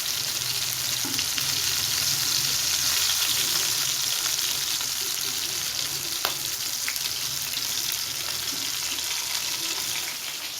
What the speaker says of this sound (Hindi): कबाब हमारे तकरीबन फ्राई हो चुके हैं